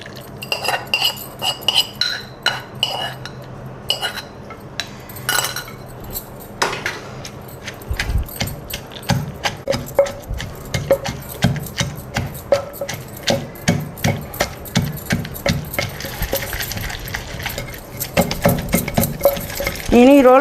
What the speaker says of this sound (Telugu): ముందుగా నేను ఈ పోపుని రోట్లో వేసుకుంటున్నాను